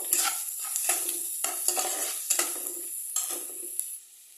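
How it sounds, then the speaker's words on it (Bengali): Ginger-garlic paste with spices being stirred in a frying pan over medium gas, a close, steady scraping and soft sizzle with repeated spoon strokes against the pan. "গ্যাসটাকে একটু মিডিয়াম করে দিয়ে এটাকে একটু ভালো করে নাড়বো।"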